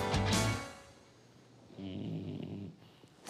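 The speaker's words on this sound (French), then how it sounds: "Qui ronfle comme ça?" A person sleeping in a shared dorm room snores loudly and close by, a heavy rasping breath followed by a longer rumbling snore, with no talk over it.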